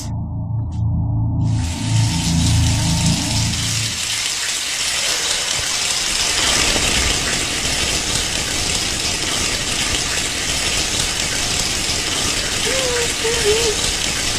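A shower pours water over someone bathing alone in a bathroom, giving a steady, full hiss that runs almost the whole time after a brief different sound at the start.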